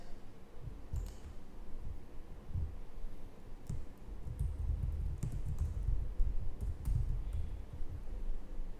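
Fingers type a script name on a computer keyboard, a close run of uneven key clicks and taps that stays at a fairly quiet, steady level throughout.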